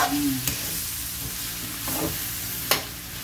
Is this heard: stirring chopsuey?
yes